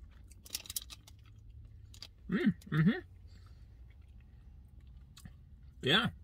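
Someone chews a spicy salted nut roll candy bar close up, with a few distinct crunchy bites and mouth clicks separated by pauses, faint and intimate.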